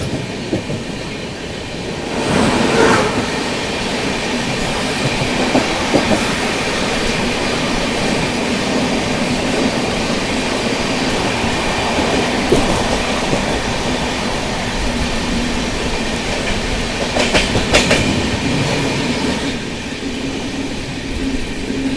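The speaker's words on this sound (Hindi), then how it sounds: "अभी अपनी ट्रेन स्किप कर रही है खंडाला रेलवे स्टेशन।" The Deccan Queen Express runs through Khandala station on the ghat section at night, heard from on board as a steady, loud rolling rumble with faint wheel clatter and brief squeals throughout.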